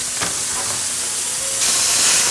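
Beef for Beef Wellington searing in a very hot oiled pan, a steady loud hiss and sizzle that swells louder near the end, with no talking.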